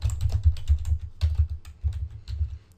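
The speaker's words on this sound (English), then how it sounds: "You can just type in the note as is and type yourself a reminder" Rapid, steady keystrokes on a computer keyboard as a reminder note is typed in Windows 7, close and clear with an even clicking rhythm and no voices.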